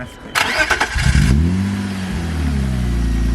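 An old BMW engine revs in a few ragged bursts, then sags and dies away into a low, uneven rumble, loud and close with no talk over it.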